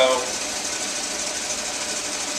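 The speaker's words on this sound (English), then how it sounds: "I'm hearing it bite into the rock now" A rock saw blade grinds steadily into a rock, fed by a gear-driven threaded screw pulling the vise, giving a continuous harsh buzzing whine at close range that holds even throughout.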